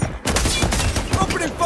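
Gunfire in a video game, a dense, loud burst of rapid shots that starts after a brief quiet moment and rattles on steadily to the end.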